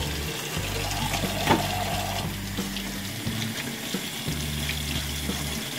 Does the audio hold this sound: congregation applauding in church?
no